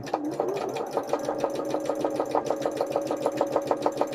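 Sewing machine stitching free-motion embroidery on hand-painted fabric, a fast steady stream of rhythmic needle clicks over a humming motor, close and even throughout.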